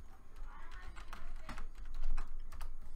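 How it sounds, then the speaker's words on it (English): Someone types on a computer keyboard, giving quiet, scattered key clicks at an uneven pace over soft background noise, with no one speaking. "simply just type in Panzoid"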